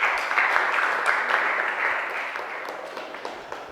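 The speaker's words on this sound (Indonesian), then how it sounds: "Tepuk tangan untuk kelompok 1." A classroom of students applauds a student group after a presentation, with moderate, steady clapping that runs throughout and tapers slightly toward the end.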